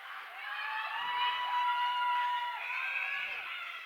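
A crowd at a junior women's hockey game between the Ottawa Junior Lady 67's and the Boston Shamrocks cheers for Boston, a sustained, high-pitched chorus of voices swelling and fading over a few seconds.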